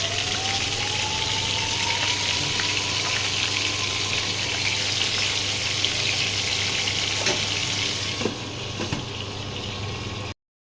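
Steady, close sizzling and crackling of fish frying in hot oil, continuous and even, ending abruptly.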